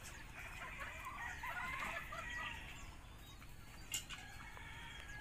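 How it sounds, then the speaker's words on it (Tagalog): Fighting roosters cluck and crow in bursts over a steady outdoor background while being fed, with a brief sharper call near the end; no one speaks. "nagpapakain si partner ng kanyang mga alagang manok na panabong"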